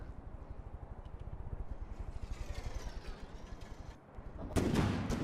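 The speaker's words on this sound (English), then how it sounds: "Okay, our cannons are actually firing." Cannons fire in a naval combat video game as a rapid, steady series of low booming shots. A louder, sharper blast comes near the end, with no talk over it.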